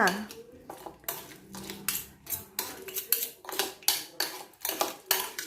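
Rice noodles and crab sticks tossed with dressing in a bowl give a run of rhythmic clinks and scrapes from utensils, close and moderately loud, with no talk.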